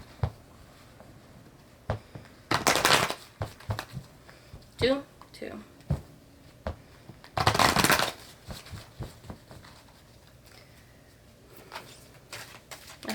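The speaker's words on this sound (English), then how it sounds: "Shuffle one more time." Tarot cards shuffled by hand in a few quick, crisp riffling bursts, close up, separated by softer handling rustles while a voice talks briefly in between.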